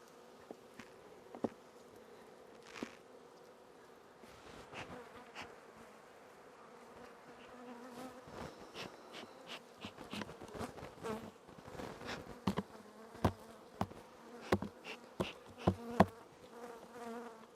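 Honey bees buzz around a centuries-old oak log hive in a continuous close drone, with individual bees zipping past and scattered taps and knocks growing more frequent toward the end.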